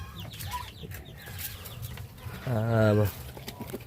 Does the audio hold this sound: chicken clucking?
yes